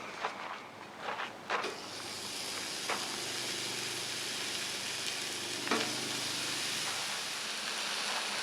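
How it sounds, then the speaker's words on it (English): Burgers frying on a seasoned griddle over a single burner, a constant soft sizzle with a few light clinks and scrapes early on, fairly quiet and with no talking. "Our burgers are starting to cook well"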